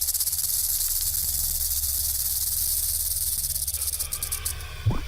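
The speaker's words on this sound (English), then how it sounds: "The older the rattlesnake gets, the longer its rattle." Rattlesnake shaking its tail rattle, a continuous dry buzzing hiss held close and steady for several seconds before it breaks up and fades, alone without voices.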